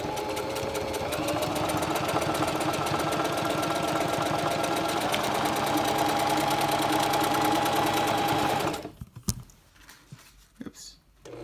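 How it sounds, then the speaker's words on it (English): A sewing machine runs a straight-stitch hem on a backpack water bottle holder, whirring steadily and close for about eight seconds before stopping, followed by a few soft handling clicks. "I went ahead and ran 2 rows of straight stitches down there just to keep it a little bit stronger."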